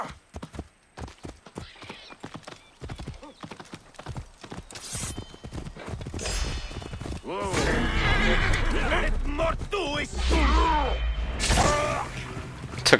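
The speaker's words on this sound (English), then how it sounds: "Ah, there's a horse. I'll take the horse." A horse in the video game Assassin's Creed Origins lets out a loud neigh and whinny after a stretch of rapid clip-clopping hoofbeats. The sound is close and fills the latter half, with someone talking over the game sounds.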